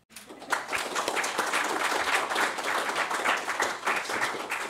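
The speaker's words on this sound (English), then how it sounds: "if we could just start off our round of applause" A conference audience at a prize-giving applauds together, with dense, steady clapping that starts quickly and stays loud and even for several seconds without voices over it.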